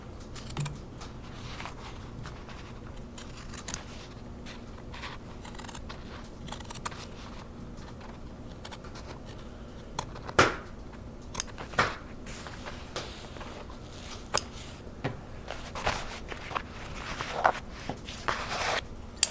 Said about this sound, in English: I cut along the entire edge of the tear, removing any loose material